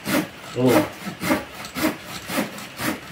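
A sharp folding saw cuts through a wooden or bamboo stem with steady push-pull strokes, giving a rhythmic rasping of about six close, fairly loud strokes with no talk.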